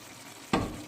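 Onions softened in a pan with a little water just added, cooking for turkey meat: a quiet steady simmer, then a brief close burst of sizzle and frying as the liquid hits the hot pan.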